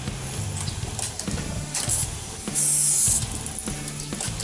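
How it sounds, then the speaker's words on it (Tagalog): A KTM Duke 200 fuel pump sprays fuel with a steady pressurized hiss over a rhythmic mechanical ticking and whirring, growing louder and harsher for about half a second midway. "Diyan nyo malalaman na malakas yung tawag nito, yung fuel pump nyo."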